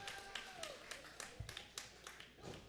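Crowd at a UCW wrestling show cheering and clapping, a busy wash of scattered claps and crowd noise with sharp bursts, under a commentator's voice.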